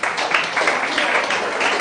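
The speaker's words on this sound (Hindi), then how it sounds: "ताली हो जाए एक बार उसके लिए।" Audience applause in an income tax class rewarding a student's correct answer: a steady wash of clapping, loud and unbroken throughout.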